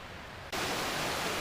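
Flowing water of the Big Elkin Creek, formerly the Elkin River, beside old railroad foundations in Elkin Park. A loud, steady rush of water cuts in abruptly and continues evenly.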